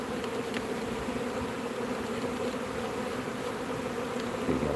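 A swarm of about three pounds of honeybees drones in a dense, steady buzz that fills the space, close and continuous with no voices.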